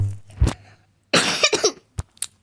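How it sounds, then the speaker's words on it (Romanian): A person coughs several times in uneven bursts, one long rough cough in the middle with short harsh coughs before and after, close to the microphone, with a low steady hum beneath. "Scuzați-mă dacă tușesc în continuu"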